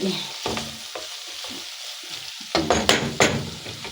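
Miswa noodles and patola simmering in a pot are stirred, giving a soft sizzle with scraping strokes that grow louder and busier toward the end.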